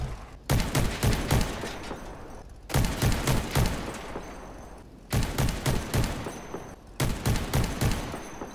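A BG2 Goblin shotgun fires in the vehicle-combat game Crossout: loud, close volleys of four rapid blasts, each volley separated by a short silent pause, repeating three times.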